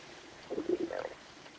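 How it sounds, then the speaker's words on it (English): A stomach growls in a scene from the 1951 film The African Queen, a low, soft gurgling rumble lasting about half a second against a quiet background. "Y'all are acting like you've never heard someone's stomach growl before."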